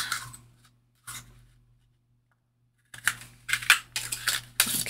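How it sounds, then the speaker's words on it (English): A tab punch cutting a shape out of folded scrap paper, with a few sharp crunching clicks and rustles, close up. Two brief bursts come first, then a pause, then a quick cluster of snaps. "I'm going to use this tab punch and cut one out"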